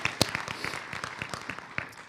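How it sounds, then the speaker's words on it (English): Audience clapping at a State of the City address, a short burst of scattered hand claps from a seated crowd, fairly quiet and sparse over about two seconds. "Yeah, we can clap for that."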